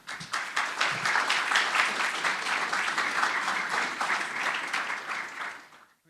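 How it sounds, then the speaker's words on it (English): A theater audience applauds after a film presentation, a dense, steady wash of many hands clapping that holds loud for about six seconds before tapering off at the end. "We have a round of applause for all the work that you did"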